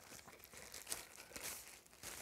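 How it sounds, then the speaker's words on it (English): Plastic packaging on a Nerf dart blaster accessory is ripped and crinkled open by hand, giving a close, continuous rustling and tearing with small crackles throughout. "as I'm ripping the plastic"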